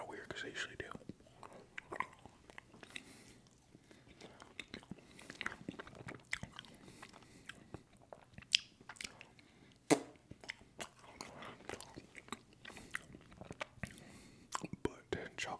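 Soft, close-up chewing and biting of a mix of chocolate, vanilla and strawberry ice cream, with scattered wet mouth clicks and smacks under quiet whispering, in an intimate ASMR setting.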